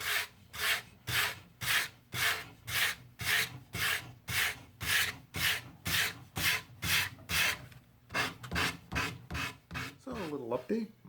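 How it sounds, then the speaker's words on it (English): A cherry wood walking cane is sanded by hand with regular back-and-forth strokes, about a dozen and a half even rasping passes and then a quicker, choppier run, close and clear. "So what I'll do is I'll sand that area just there"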